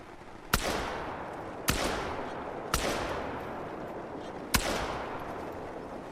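Four sharp shotgun blasts from a semi-automatic fired at geese during a goose hunt, each crack loud and close with a long decaying echo, spaced unevenly about a second apart, with no talk.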